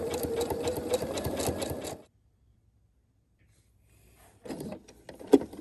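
A home sewing machine running a zigzag stitch at 3.0 width and 3.4 length, a fast rhythmic mechanical whir for about two seconds, then silence before a few short bursts of handling and clicks as the fabric is pivoted.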